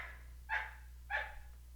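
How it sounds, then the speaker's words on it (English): Two short muffled barks from a dog somewhere indoors, spaced about half a second apart, heard faintly over a low steady hum, with no speech. "Also, sorry about my dog."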